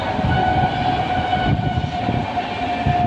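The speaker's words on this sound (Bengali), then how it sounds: "আর ট্রেন যাচ্ছে দেখো" A passing train rumbles steadily across open rural land, its horn held as a continuous tone over the rolling clatter of the wagons, loud and unbroken throughout.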